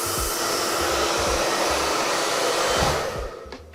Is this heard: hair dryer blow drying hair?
yes